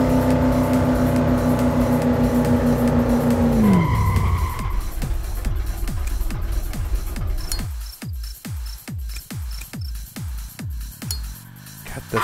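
A Subaru in the StreetLegal Redline racing game revs high and steady, then drops off sharply, followed by a series of rhythmic clunks and tire chirps as the engine note fades.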